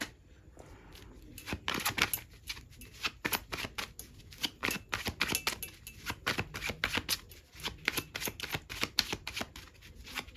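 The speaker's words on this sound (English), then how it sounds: "Let's pull more cards and see what comes out." Tarot cards are shuffled in quick riffling bursts, a rapid run of crisp flicks and snaps repeating close to the listener, with brief pauses between rounds as cards are drawn and no speech.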